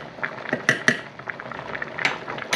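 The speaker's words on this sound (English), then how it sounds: "Now you just lightly with a spoon start stirring it a little bit." A metal spoon stirs basmati rice in a cooking pot, giving a few light clinks and scrapes against the pot over soft bubbling, close and fairly quiet.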